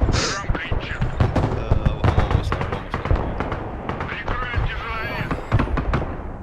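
Tank and other gunfire in the Broken Arrow war game come as rapid sharp cracks and booms, many shots in quick succession, with a voice talking over the battle.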